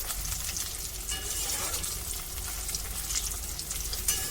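Pieces of food fry in hot oil over a medium gas flame, a steady close hissing sizzle with light bubbling and crackle, no talk over it.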